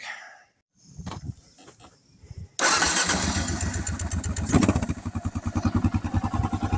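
A 2008 Kawasaki KLR 650 motorcycle with 19k miles: the starter whirs briefly, the engine fires up loudly and settles into a close, pulsing idle.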